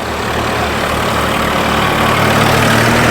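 A Massey Ferguson 241 or New Holland tractor engine runs steadily close by, a loud, dense low rumble with a constant throb and no voices over it.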